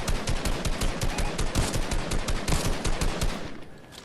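Rapid bursts of automatic gunfire from a shooter video game, dense and loud, with repeated shots rattling continuously over about four seconds and no talk.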